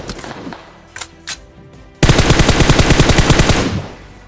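Kar-98 and MK14 rifles fire in a video game: a few scattered distant shots, then a close, loud burst of rapid repeated gunfire lasting about a second and a half.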